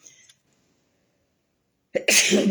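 A single sharp, close sneeze bursts out suddenly after a moment of silence, loud and forceful, from someone who has just showered and dried their hair.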